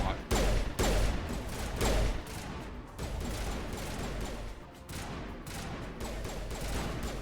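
Dense automatic gunfire in a Mass Effect firefight, loud bursts of rapid shots running nearly continuously with brief lulls.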